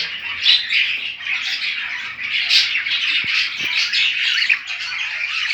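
Pet budgerigars kept for home breeding chirp and squawk in a busy, continuous chatter of close, overlapping calls, with a few brief louder squawks standing out.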